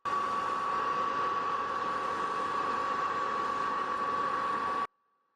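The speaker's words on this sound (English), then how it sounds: "I ended up getting in my hair dryer and I put it on the hottest setting" A steady, loud hair dryer on its hottest setting blowing with a constant whine and rushing air for about five seconds, then cutting off abruptly.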